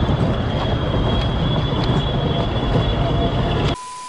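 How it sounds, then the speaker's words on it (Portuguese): A maintenance train rumbles past loudly and up close on a mountain railway line toward Marumbi, a continuous heavy roar of wheels on rails with a faint high whine, ending abruptly. "um trem de manutenção."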